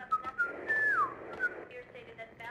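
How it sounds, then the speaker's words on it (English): Whistling in the video game Max Payne, a melodic tune of short notes and a long sliding pitch, moderately loud over faint background game noise. "Who's whistling?"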